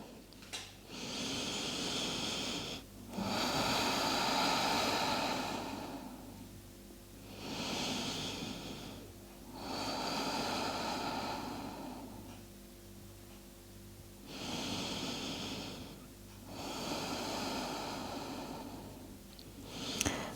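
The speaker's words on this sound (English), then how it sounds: "Slow down the breathing," Slow, deep breaths during a relaxing yoga child's pose, alternating long airy inhales and exhales in a steady rhythm, soft and close with no talk.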